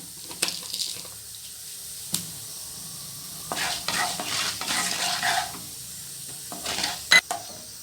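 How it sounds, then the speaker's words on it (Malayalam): Urad dal sautéed in a pan until brown for Palakkad-style kootu curry: soft sizzling under intermittent, close scraping stirs of a spoon against the pan. "1 ടേബിൾ സ്പൂൺ ഉഴുന്ന് പരിപ്പ് നന്നായി ഒന്ന് ഒരു ബ്രൗൺ കളർ ആവുന്നത് വരെ ഒന്ന് വഴറ്റി കൊടുക്കാം."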